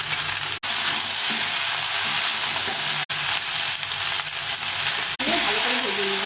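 Eggplant, pumpkin and yardlong beans fry in a pan with a steady, loud broadband sizzle, broken by a few brief dropouts, and a louder burst of crackling near the end.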